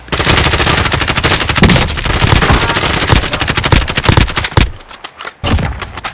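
Rapid automatic gunfire from a video game, with dense loud bursts of machine-gun fire that break into shorter volleys and pauses toward the end.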